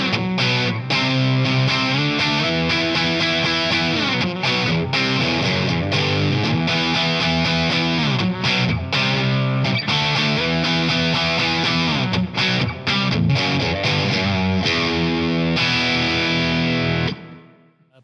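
Electric guitar runs through a Wampler Plexi Drive Deluxe distortion pedal, giving a thick, saturated Marshall-style crunch as chords and riffs are played continuously, then the sound cuts off at the end.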